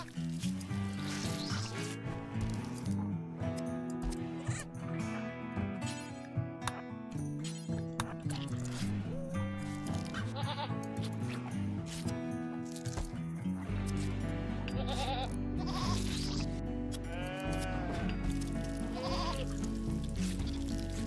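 Sheep bleat repeatedly in the colony-building game RimWorld, wavering cries layered over a continuous tonal game soundtrack.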